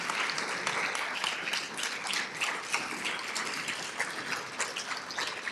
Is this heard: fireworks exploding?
no